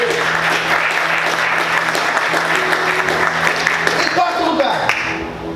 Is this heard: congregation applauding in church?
yes